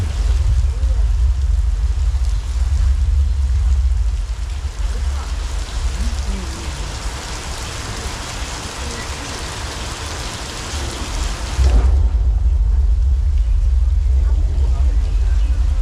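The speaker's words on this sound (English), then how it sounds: "we got some thunder and lightning out. We got some rain." Steady rain hisses and patters throughout at Universal Studios Hollywood during a thunderstorm, with a low rumble underneath; the wash thins briefly near the end before swelling back.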